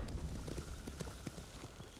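Horse hooves clip-clop in rapid, irregular beats within the video game Ghost of Tsushima, a steady galloping patter under a dense wash of game noise, loud and close without talk.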